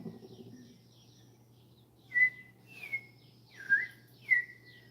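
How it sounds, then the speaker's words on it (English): A robin sings in the rain, giving four short, clear, high whistled phrases spaced about a second apart, fairly near over a faint low background hum. "that is the actual robin"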